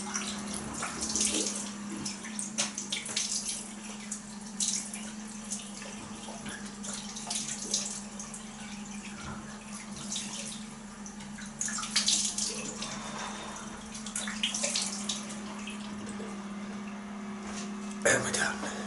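Cold water runs from a tap in a rinse after shaving, a soft steady flow with splashes and drips, close by, while a voice talks quietly over it.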